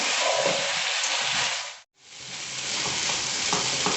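Fried garlic chicken sizzles and crackles steadily in a pan as it is stirred and mixed, a loud, dense frying hiss that briefly drops out near the middle before resuming.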